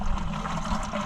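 Water trickles and drips out of the front compartment of an old 1977 Oliver Super 77 tractor found in a scrapyard, a steady close splashing flow with a low rumble beneath.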